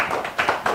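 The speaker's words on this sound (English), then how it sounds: "A round of applause." Applause from a small audience at a debate on godfatherism and democracy, a handful of distinct, close, fairly loud claps in an uneven rhythm over a short burst.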